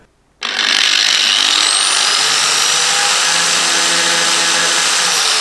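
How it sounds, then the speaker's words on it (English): An angle grinder biting into a plastic car bumper on a Ford hot hatch, starting abruptly from silence into a loud, sustained whining grind that holds steady without pause. "it'll be fine once the angle grinder goes over it"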